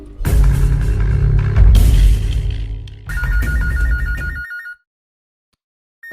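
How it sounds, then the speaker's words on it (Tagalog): Telephone ringing indoors, a warbling electronic ring over other loud, busy sound that cuts off abruptly into silence. "ang telepono may bibagting"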